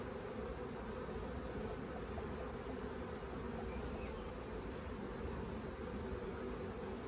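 Thousands of honeybees buzz in a continuous, low droning hum as an artificial swarm is transferred into a 10-frame hive, an even and enveloping sound close by with no talking.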